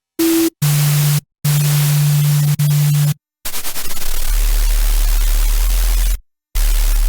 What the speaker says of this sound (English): a nice sub bass is a sine wave with a little bit of noise